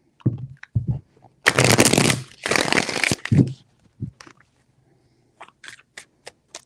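A deck of tarot cards being shuffled in several close, loud bursts of riffling and crisp flapping, with soft taps and card handling between them.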